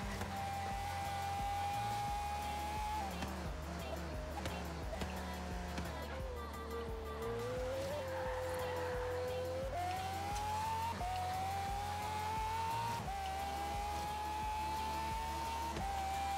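Pagani Zonda R racing in Forza Horizon 3, its engine a steady loud howl with pitch sweeps through gear changes and a continuous low rumble throughout.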